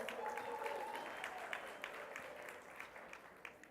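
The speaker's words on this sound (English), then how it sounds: "I think that deserves a round of applause" Steady applause from a large crowd at an academic excellence awards ceremony, dense and continuous clapping filling the room at moderate volume with no one speaking.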